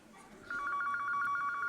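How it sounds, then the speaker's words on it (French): A telephone rings in rapid trilling bursts, clear and fairly close, starting abruptly and continuing steadily to the end. "Téléphone."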